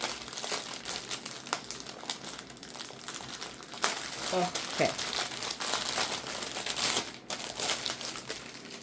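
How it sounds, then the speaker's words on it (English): Plastic packaging from a Diamond Art Club kit crinkles and crackles loudly and close up, in bursts throughout, with a person briefly speaking. "sorry for the crinkle"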